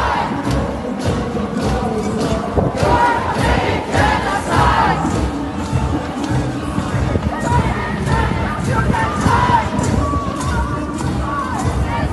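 A large street protest crowd in Canada chants against Israel in support of Palestine, loud rhythmic shouting from many voices rising and falling continuously throughout.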